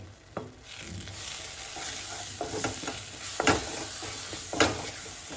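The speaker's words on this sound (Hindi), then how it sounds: "2 चम्मच लिए हमने बेसन और इसको अच्छे से मिला लेंगे।" Roasted gram flour being stirred into a sizzling mixture for Mathura-style bedmi puri potato curry, with scraping spoon strokes and a few sharp clinks against the pan over a steady frying hiss.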